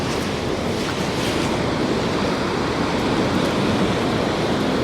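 Sea waves break on a North East Scotland beach in a continuous loud wash of surf, mixed with heavy wind buffeting the microphone and no voices.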